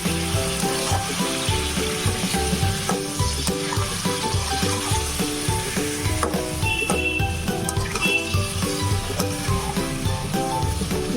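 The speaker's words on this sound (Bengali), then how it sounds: "সমস্ত চিকেনের টুকরোগুলো দিয়ে দেওয়ার পর আমি এটাকে নাড়িয়ে নিচ্ছি।" Chicken pieces sizzle steadily in a hot pan while a spoon stirs them in repeated scraping strokes, a close, continuous frying hiss with rhythmic clatter throughout.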